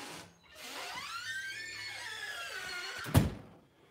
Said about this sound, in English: I'm having troubles with my door handle there.